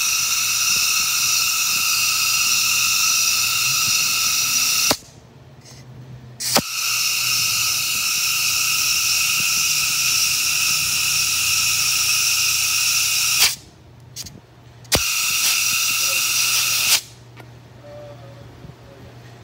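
A spark plug cleaner tool blasts a dirty, fouled spark plug from a flooding Holley carburetor, a loud, steady high hiss in bursts that cut off sharply twice, with short quiet gaps between blasts.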